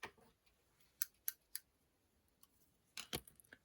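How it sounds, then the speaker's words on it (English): Scissors snipping the ends off paper crafting material for a stamped Christmas advent project, a few sharp separate cuts, close and quiet, with no talking. "We'll just do it just to cut off the ends here."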